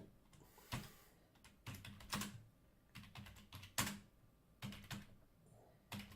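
Bursts of computer keyboard typing while code is entered, clustered keystrokes in short rapid runs separated by brief pauses, close and moderately loud with no talking.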